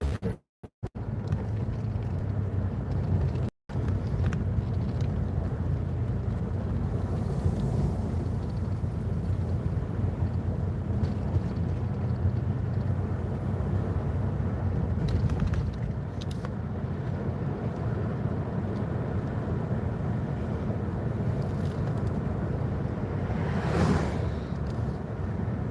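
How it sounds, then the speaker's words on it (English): Steady broadband wind rush from an open car window while driving on a chilly day, a continuous roar with low road rumble underneath and a brief dropout near the start, no talking. "Put my window down while I'm driving."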